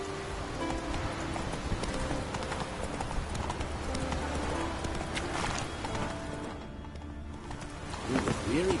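A horse gallops in The Witcher: Wild Hunt, its hooves clip-clopping in a steady rapid rhythm under game music and ambience, with a voice speaking over it and a brief whinny near the end.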